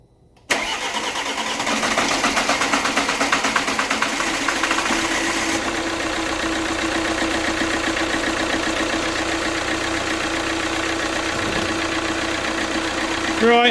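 An Alfa Romeo Giulietta diesel engine cranks and catches, then settles into a steady, loud, clattering idle that runs on without a break.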